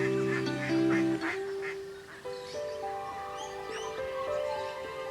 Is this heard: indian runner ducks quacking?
yes